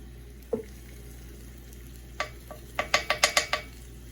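Pork spare ribs sear in bacon grease with a low, steady sizzle, broken by a single pop early on and then a quick run of sharp crackles and spatters near the end.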